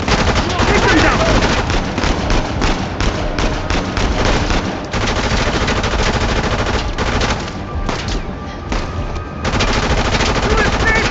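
Rapid automatic gunfire from a firefight in the video game Uncharted: The Lost Legacy, dense bursts of shots and impacts running almost continuously, loud, with game voices shouting in between.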